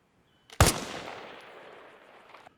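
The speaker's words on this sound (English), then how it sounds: "Third and final shot, 500 meters, armor piercing." A single armor-piercing sniper rifle shot at 500 meters in Arma Reforger, one loud sharp crack followed by a long rolling echo that slowly fades over about two seconds.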